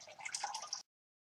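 Home brew mash liquid drains from a bag of grain in a short, faint trickle of dripping and splashing that cuts off abruptly.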